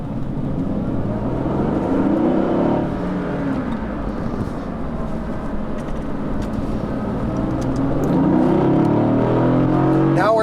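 A Mercedes-AMG GT S engine revs hard at close range, its pitch climbing in two surges as it accelerates at full throttle.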